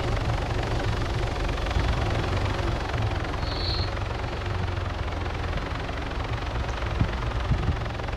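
A helicopter in the Arma 3 video game, a steady droning rotor and engine hum held at constant loudness throughout, moderately close, with no talk over it.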